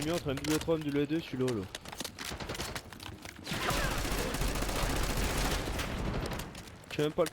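A shootout in Call of Duty: Black Ops 6 opens with talking, then a dense, sustained stretch of rapid gunfire lasts several seconds before the speech returns.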